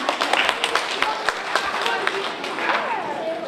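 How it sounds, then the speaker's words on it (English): A museum audience at a youth Apollo 11 celebration claps for a young girl, a brief burst of scattered hand claps mixed with cheering voices and chatter. "Let's give Sophia a round of applause"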